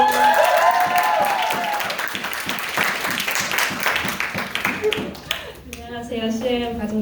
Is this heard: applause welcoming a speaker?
yes